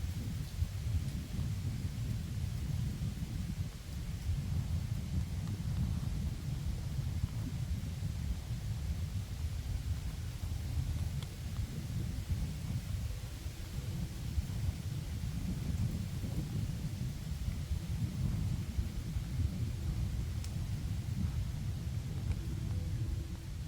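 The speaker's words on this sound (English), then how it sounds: "The wind just picked up." Gusty outdoor wind rumbles steadily against the microphone, a continuous low buffeting that swells and eases without pause.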